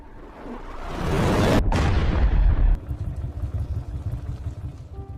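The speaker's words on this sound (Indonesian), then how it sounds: "puluhan rudal menghantam pesawat presiden." Dozens of missiles explode against an aircraft: a loud, sustained roar of explosions and blasts builds and rumbles, then gives way to a lower, continuing rumble of fire and debris.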